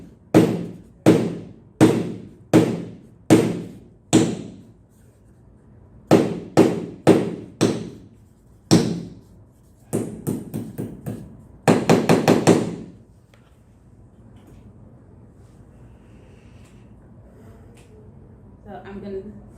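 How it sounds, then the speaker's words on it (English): A hammer drives nails into wood for string art, striking repeatedly in steady bursts of loud, sharp knocks, pausing between sets, then a quick rapid flurry before quiet room tone. "if you are going to hammer your nails in by yourself, please be very careful"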